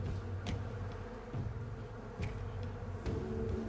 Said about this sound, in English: here's the bees.